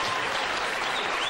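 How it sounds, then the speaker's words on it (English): Studio audience applause for Bob Hope on a late-night television talk show, a steady, dense wash of clapping filling the whole short stretch at moderate volume. "Maybe we could get the applause meter on Bob"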